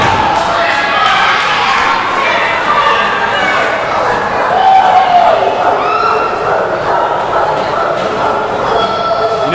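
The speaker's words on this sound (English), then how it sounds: "I have to say this crowd has been on fire all night long." A crowd at a wrestling event roars and cheers loudly and steadily throughout, a dense, sustained wall of voices with shouts rising out of the mass.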